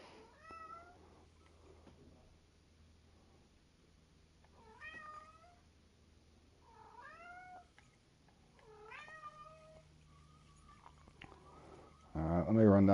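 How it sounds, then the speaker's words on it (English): Indoor cat meowing repeatedly: about four or five distinct, wavering meows at uneven intervals, fairly clear over a quiet room hum, followed by a sudden loud bump at the close. "My cat's talking in the background."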